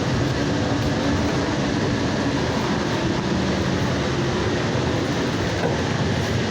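Valley Metro light rail train riding from Sky Harbor, a loud, constant interior rumble and rushing noise with a faint humming tone, steady and unbroken throughout.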